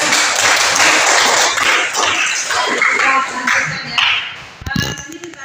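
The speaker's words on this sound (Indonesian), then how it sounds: "Tepuk tangan." Classroom applause erupts loud and dense, a sustained burst of many hands clapping that fades toward the end, followed by a few sharp knocks and a brief ringing tone.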